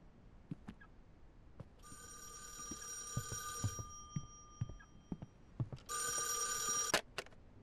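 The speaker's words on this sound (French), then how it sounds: "le téléphone ressonne" A telephone rings in a horror video game, two long electronic bursts of ringing separated by a pause, set against quiet background clicks and thumps, with no talking.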